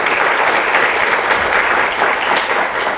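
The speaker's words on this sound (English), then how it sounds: "Round of applause for Dr. Gonzalez." An audience at a Latino Thought Makers event honoring three women applauds Dr. Gonzalez, producing steady, dense, close clapping that stays even and continuous throughout.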